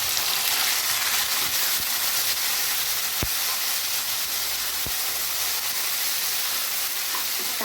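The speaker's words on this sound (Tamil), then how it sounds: "தக்காளி சேர்த்து நல்லா வதக்கிக்கோங்க." Onions and tomatoes sauté in hot oil for tiffin sambar, giving a steady broadband sizzle with an occasional faint stir or tap against the pan, close and unbroken throughout.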